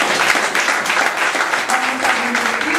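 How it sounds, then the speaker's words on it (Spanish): A church congregation applauds during a sermon, a steady dense clapping throughout with faint background tones and no speech over it. "Vamos a darle un aplauso al Señor."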